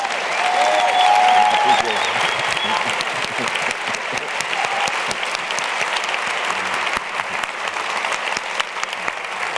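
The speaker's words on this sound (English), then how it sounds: "Let's give him a round of applause." A university audience at a conversation with Cornel West applauds with steady clapping throughout, briefly joined at the start by a couple of faint tonal sounds, with murmured voices beneath.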